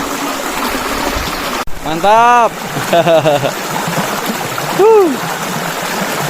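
A river flowing steadily beside a riverside meal in rural West Java, with rice fields nearby; a continuous close rush of water runs under someone speaking and exclaiming.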